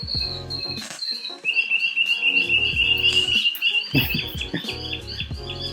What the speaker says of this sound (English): the birds in the background are really putting on the show for us today